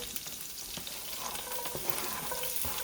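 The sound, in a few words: chopped shallots sizzling in a pan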